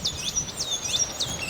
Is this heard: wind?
no